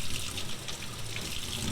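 Water from a hose runs steadily into a large basin sink as maple syrup filter parts are washed, a continuous close rushing and splashing with no pauses.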